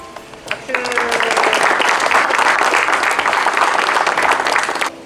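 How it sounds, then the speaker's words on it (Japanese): A group at a junior high school pond restoration event bursts into clapping for about four seconds, a dense and fairly close ovation that starts abruptly and stops abruptly, with a little voice at the start. "拍手。"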